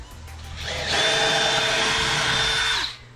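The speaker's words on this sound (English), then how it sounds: "I drill the hole" A power drill whines up to speed, runs at a steady high pitch for about two seconds, then winds down and stops while drilling a hole for a drawer handle.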